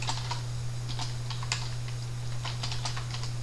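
Steady typing on a computer keyboard while writing code, a quick run of light, crisp key clicks with uneven rhythm over a constant low electrical hum, no voices.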